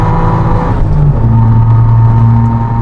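Suzuki Alto Works, a four-wheel-drive JDM car, revs hard up toward its redline, giving a loud, close, sustained engine and exhaust note with rising pitch and no talking over it.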